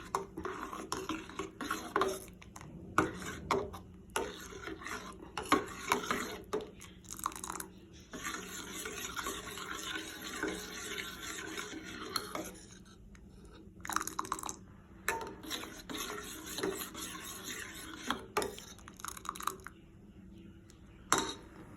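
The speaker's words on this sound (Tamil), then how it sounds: "இந்த ஜவ்வரிசியை ஆட் பண்ணுறேன். ஆட் பண்ணிவிட்டு திருப்பி ஒரு தடவை நல்லா மிக்ஸ் பண்ணுறேன்." Sago and vermicelli stirred into milk payasam in a pot, with intermittent clinks and scrapes of a spoon against metal in irregular bursts, fairly faint and close.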